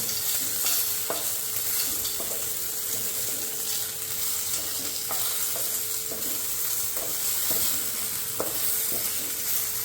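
Potatoes fry in a home kitchen pan with a steady, loud sizzle and occasional stirring clatter throughout, close and continuous with no voices.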